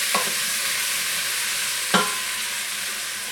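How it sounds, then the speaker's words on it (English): Skin-on potatoes sizzle in oil in a pot, a steady soft frying hiss broken by two scraping stirs of a spoon, one near the start and a louder one midway, close and moderately quiet. "Now give it a stir"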